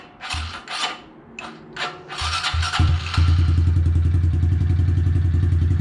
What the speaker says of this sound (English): listen to me starting the bike with this battery